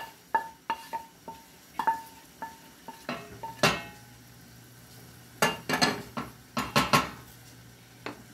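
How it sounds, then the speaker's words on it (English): Diced onions drop into a pot for a pot roast dinner, heard as a run of close clinks and clatters of utensils against the pot, irregular and fairly loud over a quiet background. "now to this we're going to add the onions"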